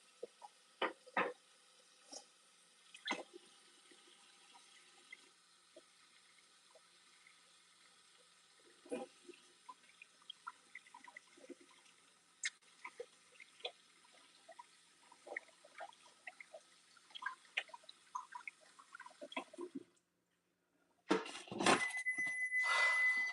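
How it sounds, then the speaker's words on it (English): Hands are washed under a running kitchen tap, with scattered drips, splashes and clinks at close range, then a steady louder gush of water near the end, with no speech. "Let me wash my hands real quick."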